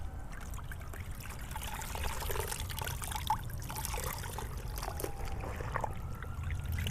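Water trickling and sloshing gently as clothing soaks for hand washing, a soft continuous dribble with small splashes and low background rumble, close and quiet, no voices.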